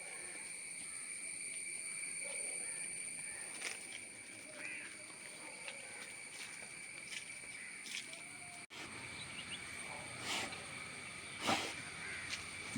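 A crow caws a few times at scattered moments, fairly faint and distant, over a quiet outdoor background with a thin steady hum.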